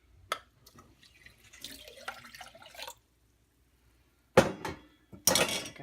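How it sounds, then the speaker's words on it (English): Dry quinoa grains pour into a pot of water with short rattling, splashing bursts, nearby, separated by a clear silent gap and ending in a louder splash. "I'll get the rest of that quinoa down in the water"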